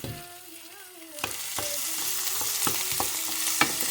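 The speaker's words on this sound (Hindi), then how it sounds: "अब हम अपने पैन में ऑयल गरम करके इसमें प्याज डालते हैं। सबसे पहले ये हम प्याज को हल्का सा सौते करेंगे" Onions sauté in hot oil in a pan, a soft steady sizzle that grows louder partway through, punctuated by sharp scraping and clinking stirring strokes.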